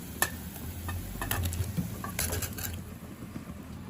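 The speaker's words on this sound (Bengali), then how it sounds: "জল ঝরিয়ে সেদ্ধ করে রাখা আমের টুকরোগুলো আমি দিয়ে দেবো" Boiled, drained mango pieces tipped into bubbling sugar syrup for a spiced sweet-sour mango chutney, giving a few soft splashes and clinks over a low simmering hiss, with no talking.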